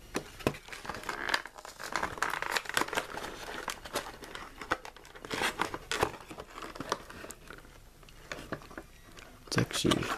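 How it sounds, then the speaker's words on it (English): Plastic toy packaging crinkles and rips in repeated sharp bursts, close and irregular, with handling noises throughout, as a Jurassic World dinosaur figure is freed. "I tore the package opening just to get this thing out"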